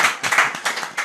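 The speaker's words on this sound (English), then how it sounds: "let's welcome him with a clap offering" A short burst of clapping hands, close and lively, lasting about a second.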